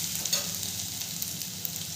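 Potatoes fry in a pan for dhaba-style bhindi, giving a continuous, even sizzle with a few light stirring clicks, close and alone.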